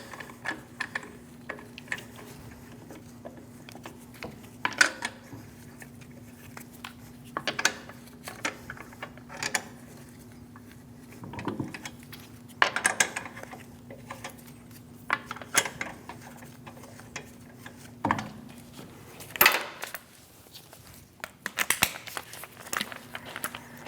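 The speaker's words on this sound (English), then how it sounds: "Snug down the lug nuts." Lug nuts being snugged down on the rear wheel of a 2016-2025 Chevrolet Malibu, with scattered ratcheting clicks and metallic clanks in short bursts over a faint steady hum, close and fairly quiet.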